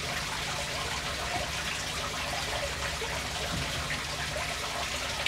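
Water splashes and trickles steadily in an acrylic paludarium, a constant close hiss with no pauses and no voices.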